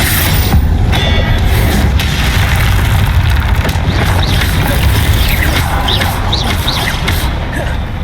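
Confringo blasting spell explosions in the video game Hogwarts Legacy, loud booming blasts and crashes over a dense, continuous battle din with chirpy magical effects, heavy and sustained throughout.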